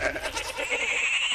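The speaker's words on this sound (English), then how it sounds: "You seek the power of a goat, and then you hear goat noises." A goat bleats in a short, wavering, nasal call, loud and close, lasting about a second.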